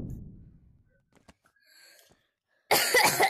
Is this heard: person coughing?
yes